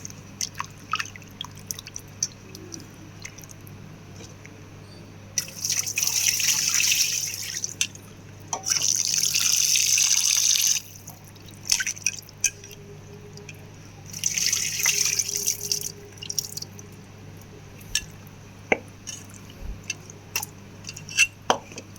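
Tap water gushes in three separate bursts over fenugreek greens being rinsed, with drips, soft splashes and faint handling noises in the quieter gaps.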